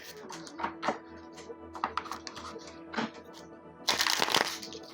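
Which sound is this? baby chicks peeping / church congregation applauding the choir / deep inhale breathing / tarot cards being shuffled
tarot cards being shuffled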